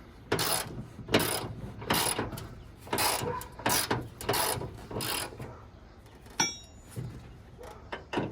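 Ratcheting of a wrench loosening the bolts on locomotive-style ditch light mounts, a series of quick mechanical clicking bursts in an irregular rhythm, close and fairly quiet, with brief pauses and a small metallic clink.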